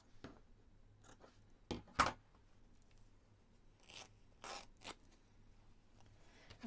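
Scissors cut pieces of scrap fabric in a few short snips and crisp crunches spread across a quiet room, close by.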